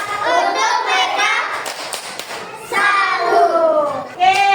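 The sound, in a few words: class clapping a salute for group 1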